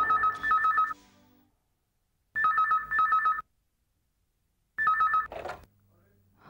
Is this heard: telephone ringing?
yes